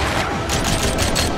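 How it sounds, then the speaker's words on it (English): Dual pistols fire rapidly in the video game Rollerdrome, a dense loud volley of shots layered over a busy game soundtrack. "I really like dual pistols."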